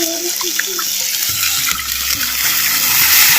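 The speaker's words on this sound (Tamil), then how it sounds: "அப்படியே புளி சாரை வந்து சேர்த்து" Tamarind extract is poured into a pot of betel leaf herbal rasam, a close, steady splashing pour of liquid over a soft simmering hiss, lasting a few seconds.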